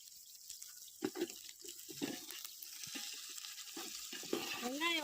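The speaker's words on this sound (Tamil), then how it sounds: "வெங்காயம் வதங்கிக்கிட்டே இருக்கும்." Onions sautéing in a pan for a large batch of biryani, stirred with scraping clinks over a steady faint sizzle, with no talking.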